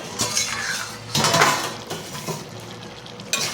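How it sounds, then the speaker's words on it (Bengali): A lid is lifted off a cooking pot of simmering bottle gourd and crab curry, giving a few close metallic clanks and scrapes of metal against metal over a low simmer, with no voices. "এবার আমি ঢাকনাটা তুলে নিচ্ছি"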